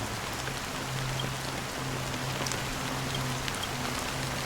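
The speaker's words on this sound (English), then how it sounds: "How long has this rain been ongoing?" Steady rainfall in the video game Honkai Star Rail, a dense continuous hiss of drops with a low droning tone underneath, even and unbroken, with no one talking.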